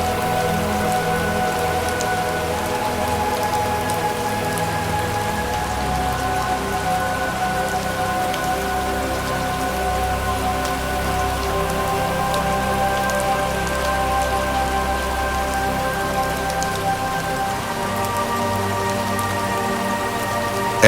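Steady rain falls through a rainforest beside a stream, a dense, even hiss of drops on leaves and surfaces that holds at the same loudness throughout, with no voices.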